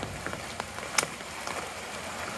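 Rain falls on the Appalachian Trail, a soft, steady patter with scattered sharper drop hits, fairly faint and without talk.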